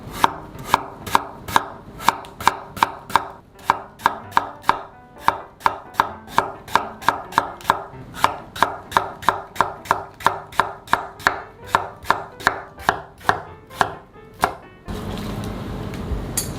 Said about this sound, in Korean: 이렇게 적당한 크기로, 먹기 좋은 크기로 잘라주세요